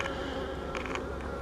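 Honey bees buzz around unopened queen cells in a hive, a close, steady drone of many wings with brief louder swells as individual bees pass near, and no voices.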